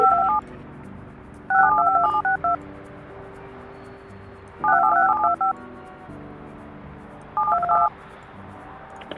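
Touch-tone telephone dialing from the building-management video game Project Highrise: four separate bursts of rapid DTMF key tones, each a quick run of beeps, spaced by pauses over a soft, steady background hum.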